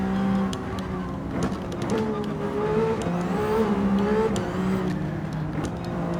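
Ferrari VGT race car engine in Gran Turismo 7 played in VR: a loud continuous engine drone with rising and falling revs through gear changes, heard alone.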